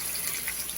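Boiling water poured into a pot of red rice cooking with chicken and tomato paste, a steady splashing gush that runs continuously at close range with no voices.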